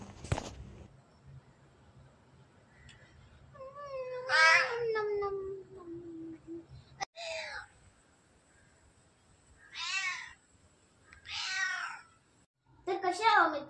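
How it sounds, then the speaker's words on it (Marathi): A friendly cat at a homestay near Aarvi beach in Raigad, Konkan, gives several clear, close meows, spaced out across a quiet room with short silences between calls. "इथेच त्यांची मांजर होती"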